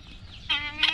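Young roosters give clucks and short harmonic calls that rise in two bursts over faint background noise, close by.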